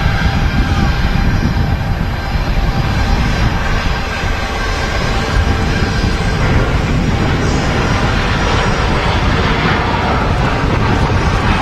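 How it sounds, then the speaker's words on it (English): A Ryanair Boeing 737-800 jet at windy Manchester Airport gives a loud, continuous roar of engines and rushing air that holds steady and close the whole time. "Now, with a Ryanair going 737-800 from aircraft is heading to Malaga."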